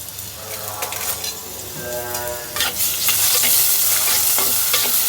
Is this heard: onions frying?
yes